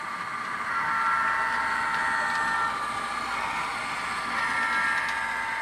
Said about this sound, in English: Now the train is passing underneath the Emerson Street crossing in Seattle and running through the Interbay yard